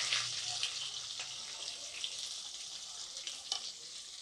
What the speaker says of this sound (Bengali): এবার এর মধ্যে দিয়ে দেবো পেঁয়াজ কুচি করা